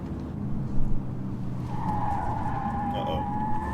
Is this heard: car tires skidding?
yes